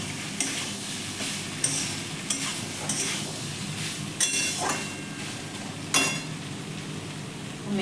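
Spice masala sizzling in oil for a soybean curry, with water poured in: a steady frying hiss broken by sharp bursts and scraping clinks of stirring, close up with no talking.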